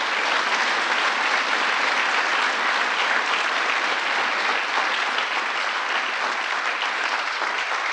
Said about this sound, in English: I want you to give one round of applause again for today's recipients of the Presidential Citizens Medal